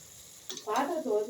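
Vegetables sizzle and hiss as they fry in a pan, with a soft stir and a burst of crackling that swells and continues close by.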